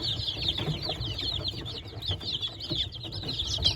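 A coop full of young chicks peeps continuously, a dense chorus of high chirps close by with some low rustling beneath.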